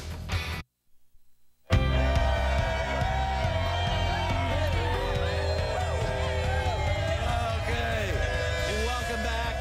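A crowd cheers and whoops on an outdoor plaza at a morning TV broadcast after a football game, loud and sustained, with a brief dropout near the start and babble mixed through the roar.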